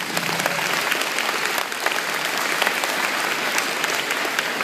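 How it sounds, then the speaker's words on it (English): Steady, dense applause from a crowd, continuous clapping throughout without a break. "let's give her a round of applause first"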